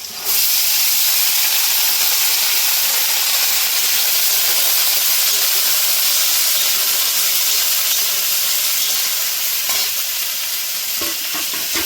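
Green chilli, carrot and beans frying together for chowmein, producing a loud, steady hiss and sizzle throughout as the vegetables are stirred, with a couple of light utensil knocks near the end.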